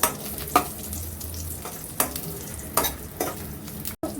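Raisins frying in a pan for a semolina upma prasadam, a soft steady sizzle broken by several sharp scraping stirs and a brief clatter near the end, no speech.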